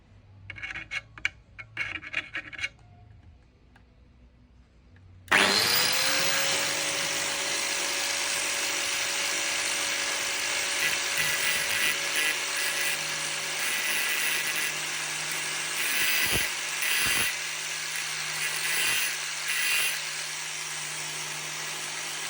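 Drill bit being sharpened on a Chinese sharpening machine, a loud continuous motor whine with grinding rasp that starts abruptly after a quiet stretch of handling noises and runs steadily to the end.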